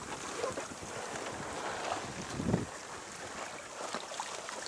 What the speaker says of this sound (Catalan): Seguim navegant.